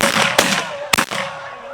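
Shotguns fire at snow geese during a spring hunt in a field with decoys, two loud close blasts about half a second apart over the steady honking of a goose flock.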